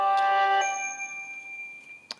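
A phone's message notification chimes during a fabric tag stamping craft session, a short cluster of bright tones that ring on and fade, followed by a faint click near the end.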